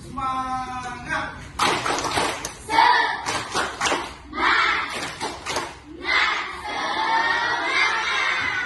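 Students in a classroom perform a clapping chant, with bursts of rhythmic clapping and loud shouted call-outs from the children, broken by short pauses and ending in sustained group voices.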